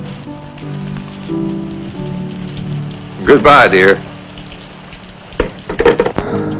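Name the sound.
rain falling outside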